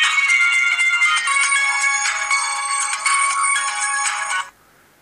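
A loud electronic melody of bright tones plays continuously for about four and a half seconds and then cuts off, the shutdown jingle of an Xperia X3 phone sold on television.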